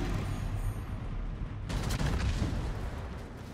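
Rumbling bursts of heavy naval cannon fire in World of Warships boom and crackle over a dense, continuous background roar, with a louder volley midway.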